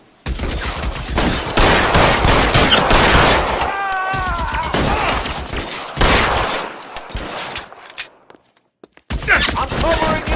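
Gunfire in the video game LA Noire: loud bursts of rapid shots and fusillades in quick succession, with brief pauses, a voice shouting over the shooting amid the combat.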